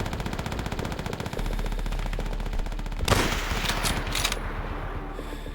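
Rapid machine-gun fire in the WWII shooter game Call of Duty: World at War, a dense continuous rattle that swells into a louder burst of shots midway, with no talk.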